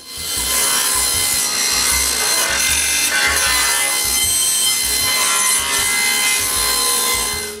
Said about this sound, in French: la première chose que je fais, c'est de me couper des moulures pour toutes les fenêtres du pignon avant